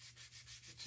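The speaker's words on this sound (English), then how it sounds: "I just want to kind of sand" Short, steady rubbing scrape of sandpaper working the edges of a painted chipboard pot, close and soft, repeating in quick strokes with no voices.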